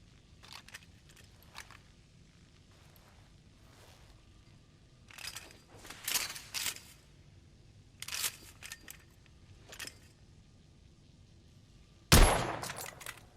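In the video game The Order: 1886, a rifle fitted with a telescopic sight is handled with a series of soft mechanical clicks and clacks, then fires once with a single loud, sharp report near the end.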